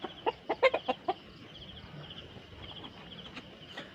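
A quick run of several short clucks from chickens nearby, then quieter background with an occasional faint cluck.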